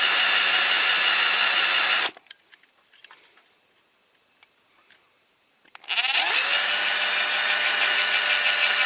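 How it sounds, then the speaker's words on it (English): A small drill whines loudly for about two seconds drilling out rivets on a Corgi Toys die-cast model car, stops for a quiet gap with faint clicks, then starts again and runs steadily to the end. "Let's get these rivets drilled out."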